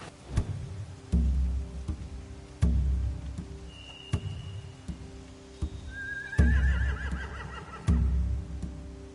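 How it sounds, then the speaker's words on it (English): Horses in The Walking Dead: The Final Season video game whinny twice over a steady rhythm of heavy thuds and low rumble, the neighs high and drawn out against a busy background. "They have horses."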